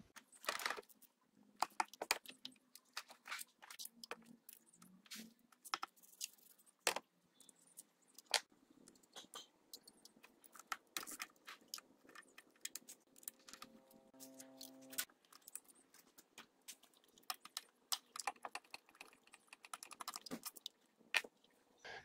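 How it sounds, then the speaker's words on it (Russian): Faint, scattered clicks and light ticking from an M8 Torx socket turning out intake manifold bolts on a car engine with an antifreeze leak, with a brief low tonal hum partway through and no one talking. "Звезда М8, пока откручиваем все болты, кроме вот этих двух."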